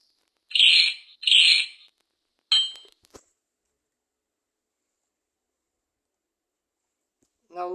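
A mechanical bird in a puzzle escape video game lets out two bright, shrill chirps, then a shorter chirp and a click, followed by silence and a faint voice at the end.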